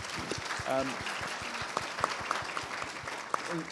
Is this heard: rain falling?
no